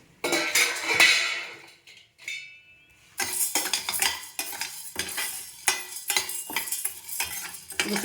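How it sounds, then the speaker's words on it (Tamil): Curry leaves and chana dal are dry-roasted in a pan for idli podi. A metal spoon scrapes and clinks against the pan in repeated stirring strokes with a light sizzle, broken by a short quiet pause early on. "கருவேப்பிடி அதிலே போட்டுடலாம் நல்லா வறுபட்டுரும்"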